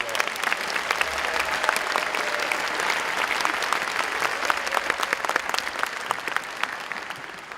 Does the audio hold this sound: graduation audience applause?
yes